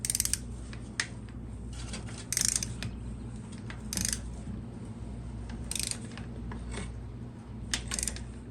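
A torque wrench tightens the oil drain plug on a 2002–2003 Yamaha R1, giving a series of sharp ratcheting clicks in short bursts over a low steady hum.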